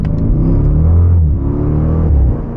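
A Jeep SRT with aftermarket intakes idles and revs nearby, a deep, steady engine rumble holding for about two seconds before easing off slightly at the end.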